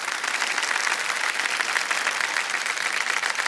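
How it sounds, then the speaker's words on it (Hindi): Studio audience on a televised quiz show applauding a contestant: dense, steady clapping from many hands, sustained and even throughout, fairly loud with no speech over it. "ताली बज जाए इनके लिए।"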